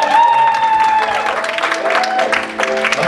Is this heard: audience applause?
yes